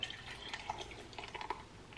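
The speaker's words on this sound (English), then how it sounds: "So I just pour the coffee on in." Cold coffee poured over ice into a glass, with faint trickling and drips and small tinkles of liquid against the ice, quiet and close, no talking.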